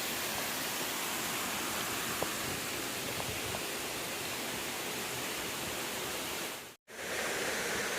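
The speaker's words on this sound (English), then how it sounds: "We have one beautiful waterfall over there." A waterfall fed by a stream, beside an old traditional irrigation system, rushes in a steady broadband roar that fills the whole stretch, with one brief dropout near the end.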